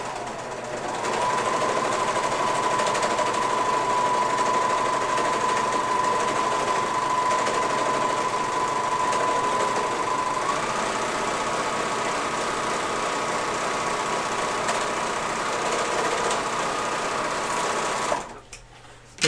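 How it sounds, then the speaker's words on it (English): An overlock serger sews fabric for gaiters, a loud steady mechanical whir running continuously at high speed for most of the clip, then cutting off abruptly near the end. "You might notice when I'm surging that I go really fast on the straightaways and I slow down on the curves."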